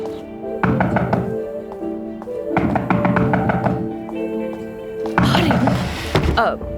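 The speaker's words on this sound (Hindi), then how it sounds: "दरवाजा बज रहा है, मैं जाकर देखती हूँ" Bursts of rapid knocking on a door, several quick raps in each burst, heard over dramatic background music.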